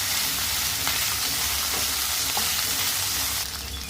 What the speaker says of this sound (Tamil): கத்திரிக்காய் சேர்த்துக்கிறேங்க. அடுத்து முருங்கைக்காய் சேர்த்துக்கிறேன். இது எல்லாத்தையும் நல்லா கலந்து வச்சுக்கிறேன்.